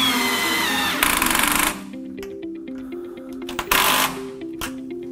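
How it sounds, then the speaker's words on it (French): Small metal bracket being screwed to a wall while assembling an Ekinox panel: a cordless screwdriver whirs in short bursts, motor pitch rising and stopping, close and loud with brief pauses between runs. "prend la petite équerre qu'on va venir visser au mur"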